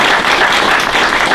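An audience at a women's basketball coach meet-and-greet applauds, a loud, dense, continuous wash of clapping close by.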